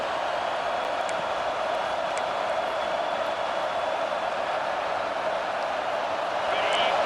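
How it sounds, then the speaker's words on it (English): A home crowd roars steadily in a stadium in the video game EA Sports College Football 26, a dense, unbroken wash of noise that swells slightly at the end, with no clear talk over it. "how nice is it to have the home crowd going absolutely bananas?"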